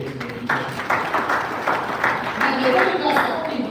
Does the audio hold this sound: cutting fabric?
no